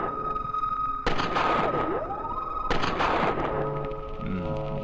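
Gunfire in the surreal exploration RPG Middens: two loud broadband bursts about a second and a half apart, set against a droning game soundtrack with a swooping synthetic tone and a hum.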